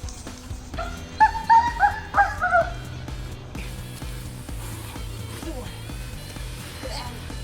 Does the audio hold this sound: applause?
no